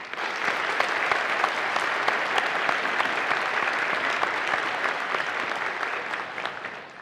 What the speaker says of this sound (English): give them a